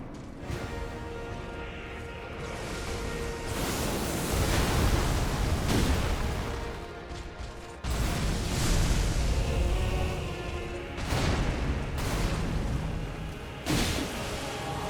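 Deep, rumbling explosions and booming blasts from Elden Ring fill a dense, continuous roar, with several heavy surges swelling and cutting off across the stretch.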